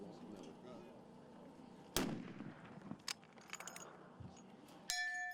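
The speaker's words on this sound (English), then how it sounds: "And a hit with the first shot." A single sharp long-range rifle shot at a 1,700-yard target cracks loudly in an otherwise quiet outdoor setting, followed by fainter clicks and handling sounds and a brief final thump.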